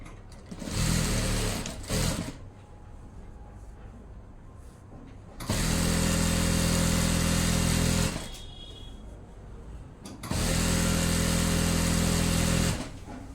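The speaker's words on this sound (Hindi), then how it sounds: "पैंट की साइड वाली सिलाई लगाएंगे।" Sewing machine stitching the side seam of a pair of pants, running in three long steady bursts of close, loud whirring with short quiet pauses between them.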